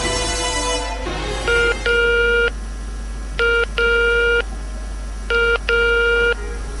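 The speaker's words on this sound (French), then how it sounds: "le vieil homme décroche le téléphone et compose un numéro" Someone dials a telephone number: the handset's dial tone is followed by three quick clusters of crisp touch-tone beeps, each a short tone and a longer one, spaced evenly and close.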